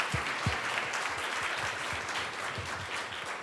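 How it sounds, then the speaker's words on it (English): Audience applause after a lecture, a continuous dense patter of many hands clapping at moderate distance, sustained evenly and alone. "Please join me in giving another round of applause to Mr."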